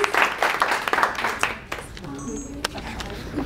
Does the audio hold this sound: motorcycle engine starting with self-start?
no